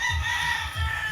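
Rooster crowing close by in a farmyard, a repeated throaty cock-a-doodle-doo with strong low pulses and bright sustained tones, loud and alone with no talk.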